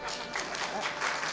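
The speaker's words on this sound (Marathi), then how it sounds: "सर्वांना टाळी जरा मनापासून वाजवा" Audience clapping at a Marathi kirtan, a short steady burst of hands applauding at moderate distance, fairly soft and continuous.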